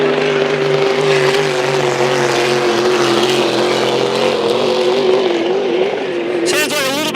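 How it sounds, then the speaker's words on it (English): A Grand Prix hydroplane racing boat engine runs at a lake during warm-up, a loud sustained droning roar with a wavering pitch that holds steady throughout, close and dominant, rising in a brief higher revving sweep at the end. "they know certainly how to pedal these Grand Prix hydroplane boats, and that boat going into the water as I speak."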